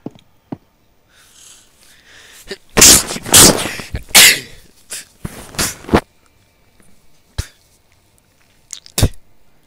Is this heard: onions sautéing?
no